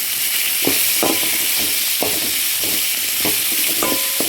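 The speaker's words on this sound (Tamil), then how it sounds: "வதக்கணும் அந்த மசாலா ஊற்றி எடுத்துக்கிட்டாங்க அதனால் நம்ம கொஞ்சமாக இப்படி வதக்கிடுவோம்" Masala with curry leaves sautéing in a pan: a constant loud sizzle broken by regular scraping strokes of a spatula, about one every half second, with no voices.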